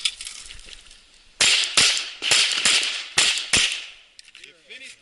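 Pistol gunshots ring out at an IDPA shooting match in Berryville, Arkansas, a rapid string of about eight sharp, loud cracks with echoing tails, preceded by quiet and followed by fainter clinks.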